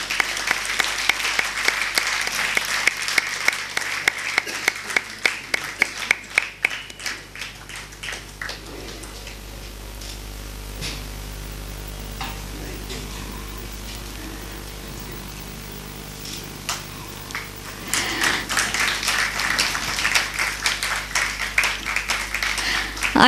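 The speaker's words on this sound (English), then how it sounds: "Big round of applause." Audience applause at an award ceremony in a hall in Nagpur, with a burst of dense clapping at the start that thins, a quieter murmuring stretch in the middle, then a second swell of clapping near the end.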